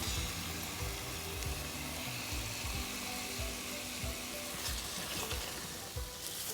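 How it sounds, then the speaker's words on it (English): Prawns frying in curry masala, a soft, fairly faint sizzle with a series of low thuds and stirring knocks as they settle in the pan, alone without speech. "So let me just add the prawns."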